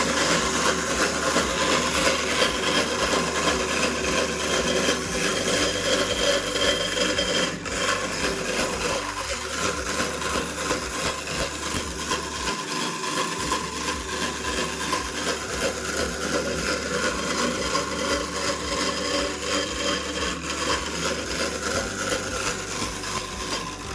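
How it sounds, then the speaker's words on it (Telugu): A woodworking drilling machine in a carpenter's workshop starts and keeps running, a steady loud motor hum with a constant rattle throughout. "దీన్ని తొలి మిషన్ అంటారు. అంటే ఎలా అంటే దీని ద్వారా హోల్స్ కొడుతుంది."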